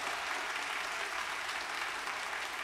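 Audience at a live concert claps in a steady, dense patter that stays fairly quiet and even throughout, with no voices cutting through.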